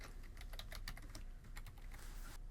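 Computer keyboard typing in a quiet room, a quick irregular run of light key clicks with a brief pause midway, close and clear with no talking.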